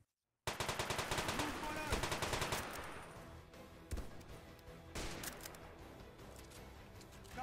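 A 240 machine gun fires in a video game, long rapid bursts of loud close automatic fire with brief pauses and a few heavier single reports, a voice briefly heard among the shots.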